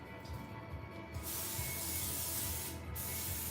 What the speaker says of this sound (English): now we are going to spray the skillet with a non-stick spray,